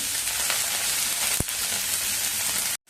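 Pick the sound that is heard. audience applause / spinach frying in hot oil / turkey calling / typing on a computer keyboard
spinach frying in hot oil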